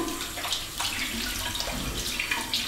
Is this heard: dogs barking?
no